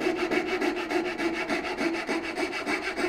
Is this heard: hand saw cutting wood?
yes